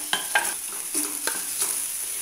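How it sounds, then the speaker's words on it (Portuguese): Two garlic cloves sauté in a pan with a light sizzle under several sharp, irregular stirring scrapes, close and clear with no talking. "em uma panela, eu vou estar adicionando dois dentes de alho para refogar"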